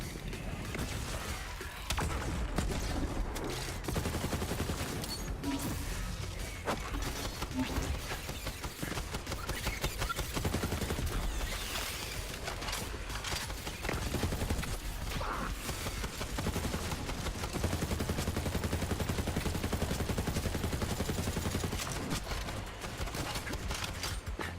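Gunfire in the shooter Borderlands 3 plays as Zane, rattling in dense, continuous bursts over the game's noisy combat effects for the whole stretch, fairly faint overall.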